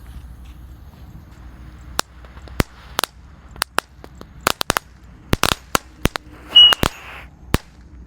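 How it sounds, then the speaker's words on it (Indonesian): A Thor tank firecracker goes off in a rapid, irregular burst of sharp cracks and pops, with a brief hiss partway through, loud and close against a quiet outdoor background. "Di sini ada mercon tank Thor."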